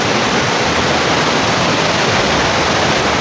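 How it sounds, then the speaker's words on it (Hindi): Loud, steady rush of water flowing outdoors close behind the speaker, a constant broadband roar with no talk over it. "देखो मेरे पीछे पानी चल रहा है"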